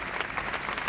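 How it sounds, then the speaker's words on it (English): Audience clapping for someone speaker at an International Women's Day event, a brief, dense burst of applause close by with no voices over it. "Please, let's clap for her so she doesn't."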